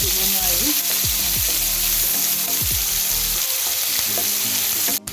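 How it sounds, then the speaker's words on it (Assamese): Onions frying in a pan for an Assamese fish curry with greens, a steady loud sizzle and crackle running throughout with occasional stirring scrapes, no talk. "এতিয়া পিঁয়াজখিনি ভালকৈ ফ্ৰাই হ'বলৈ দিব লাগিব।"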